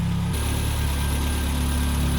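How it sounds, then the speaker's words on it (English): A 1978 Triumph Spitfire 1500 inline-four engine idles smoothly and evenly up close under the open hood, a steady low hum with one slight shift in tone near the start and no voices. "Look at how smooth that engine runs. Very nice running engine."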